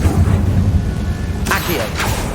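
The Incendio fire spell goes off in Hogwarts Legacy, two sharp whooshing fiery bursts a half-second apart over a low rumbling game backdrop.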